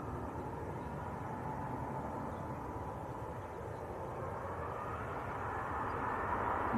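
An airliner taxiing slowly at Manchester Airport gives off a steady, moderately distant jet engine whine and rumble that swells slightly toward the end, with no voices over it.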